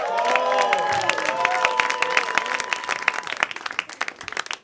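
A comedy club audience applauds comedian Cole Cosby, a dense wash of clapping with some cheering that thins toward the end, with a voice audible at the start.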